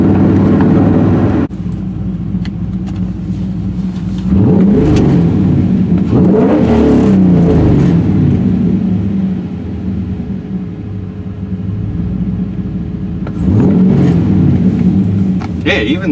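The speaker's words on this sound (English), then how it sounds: "just blipping the throttle is better than it was before" An LS-swapped Porsche 944 idles with a steady low rumble, then takes sharp throttle blips that swell into loud revs around the middle and again near the end before settling back to idle.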